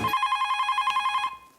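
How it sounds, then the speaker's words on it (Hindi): A telephone bell rings in a fast, even trill of rapid metallic pulses lasting just over a second, then stops, with a brief voice at the end. "जरूर सुंदर का फोन होगा।"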